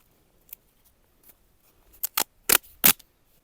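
Strips of duct tape tear off the roll during a small repair job on a Spanish farm: a few faint rustles, then four sharp ripping bursts in quick succession, close and alone.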